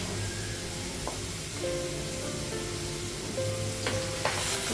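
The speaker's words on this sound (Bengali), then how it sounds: "গ্যাসটা বাড়িয়েছি আর একটু ভেজে নেব" Squash and potato fry in a pan on a gas stove, a steady loud sizzle and crackle with occasional clinks of a utensil stirring the vegetables.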